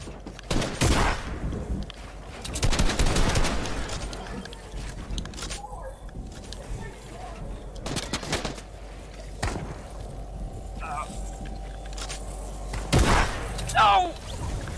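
Video game gunfire shooting through a player-built wall comes in loud, sharp bursts and volleys, separated by quieter gaps with faint background sounds.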